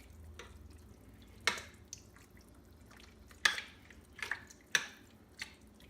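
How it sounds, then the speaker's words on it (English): Canned black beans being rinsed and drained in a sink, heard as quiet dripping and splashing water with a few sharper splatters and knocks spaced through a low, faint background. "Now I just need to rinse and drain the black beans."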